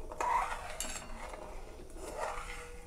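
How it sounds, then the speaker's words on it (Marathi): Masala milk sweetened with sugar is stirred in a pot, giving a soft, continuous scraping and swishing of a spoon against the metal for the full three seconds, with no talking. "आता आपल्याला छान असं हे मिक्स करून घ्यायचं आहे"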